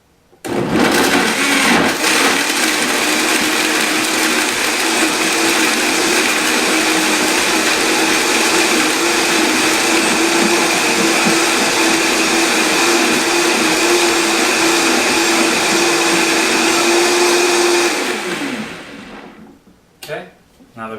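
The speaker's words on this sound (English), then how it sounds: "we're going to blend this all up, and then we're going to add the carob" A Vitamix blender runs continuously at high speed for about eighteen seconds, churning a thick carob walnut brownie mixture with a steady loud whir and a sustained tone, then spins down and stops.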